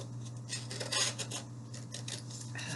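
Repeated crisp snips of scissors cutting through paper for paper flowers, close by, in quick irregular bursts with faint rustling between.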